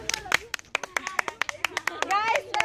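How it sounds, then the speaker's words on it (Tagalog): A class of students claps for their teacher in a classroom, quick uneven bursts of hand claps, close and fairly loud, mixed with children's excited voices calling out over the clapping. "Isang masigabong palakpakan."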